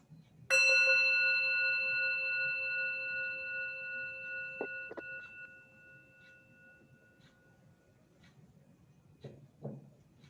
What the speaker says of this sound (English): We will begin with the sound of a bell.